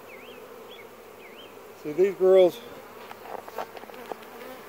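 Honey bees from a weak laying-worker hive buzz in a low, steady hum, with a few louder passes close by and a brief word spoken over them.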